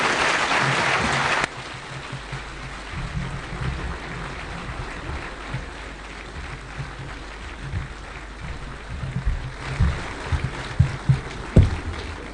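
At a prayer breakfast in Nairobi's Safari Park Hotel, an audience claps to welcome Kenyan President William Ruto: a loud burst of applause at first, then a quieter room murmur with scattered claps and thumps building again toward the end.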